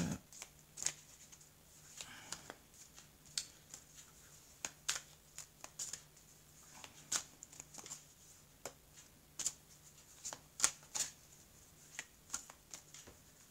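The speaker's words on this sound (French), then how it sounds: "étaler les cartes" Tarot cards shuffled and spread across a table, a quiet series of soft riffling snaps and brushing flicks in irregular bursts over a faint low hum.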